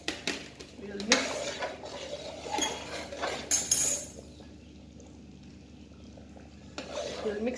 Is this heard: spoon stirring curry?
yes